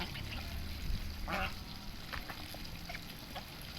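Ducks eating oily unwashed rice beside a pond, with a few short quacks over a constant background of watery slurping and dabbling.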